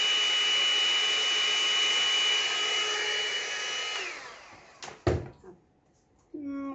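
Air is blown steadily over white paint on top of a pink and turquoise bloom pour, making a sustained close hissing rush that cuts off after about four seconds, followed by a few brief knocks and a short hum.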